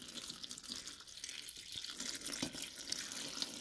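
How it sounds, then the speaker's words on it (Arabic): Water from a tap runs into a pot of stuffed grape leaves (dolma), a steady splashing flow that builds slightly and continues close by with no talking. "حط المي"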